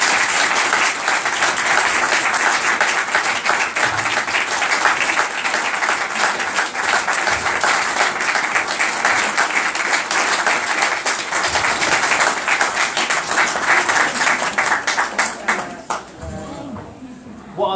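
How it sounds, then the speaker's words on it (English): An audience at a book launch for a speaker named Samantha gives prolonged, loud, dense clapping that carries on steadily before tapering off near the end into a few faint remaining sounds. "I think Samantha deserves a round of applause from everyone."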